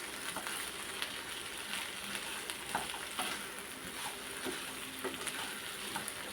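Turkey berries, onion, coconut and dried chillies sautéing in a pan give a steady close sizzle and crackle of frying, with faint stirring scrapes running through it and no voices.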